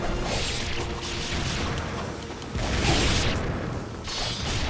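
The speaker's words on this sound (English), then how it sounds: "Explosions all the time!" Explosions in Ninja Gaiden Sigma 2 Black go off one after another: repeated booming crashes and shattering bursts over a rumbling game soundscape, with no voice.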